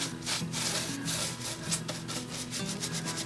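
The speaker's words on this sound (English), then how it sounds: "I want to kind of push the paint into all of this basket, all the grooves" A brush works acrylic paint into the grooves of an old woven basket, making steady, close scrubbing strokes that repeat in a loose rhythm with no talking.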